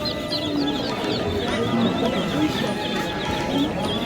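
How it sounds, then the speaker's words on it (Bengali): Desi chickens clucking at a village market in Nalitabari, with repeated short clucks and squawks from several birds close by over a busy market murmur. "এই হাটে সবসময় দেশি মুরগি,"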